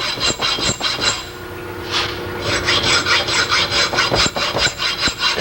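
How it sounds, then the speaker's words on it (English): A hacksaw cuts a slot into a small metal part for a bearing assembly, giving a steady run of close, loud back-and-forth rasping strokes with a short pause partway through. "Cut a slot in that little baby. Right there. With a hacksaw."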